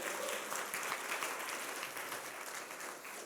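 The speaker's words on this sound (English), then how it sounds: "Clap your hands and give him praise" Church congregation clapping in praise during a worship service, a dense, continuous wash of many hands beating together at an even, loud level throughout.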